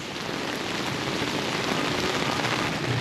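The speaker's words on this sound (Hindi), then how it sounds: "और तेज़ बारिश, फुल तेज़ बारिश।" Dense, steady hiss of heavy rain pouring down on a flooded street in Karachi, constant and loud with no voices.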